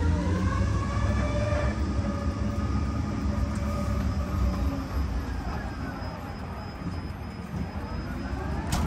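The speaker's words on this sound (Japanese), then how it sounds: "電車の音だ、電車の音。 そう、電車と同じね。 モーターの音だね。" A toy's small electric motor whirs steadily with rising and falling tonal hums, sounding much like a passing train, close and continuous throughout.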